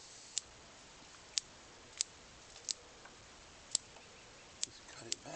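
Small scissors snip a dwarf jade (Portulacaria afra) bonsai: about eight sharp, crisp clicks at uneven intervals, close and clear against a quiet background.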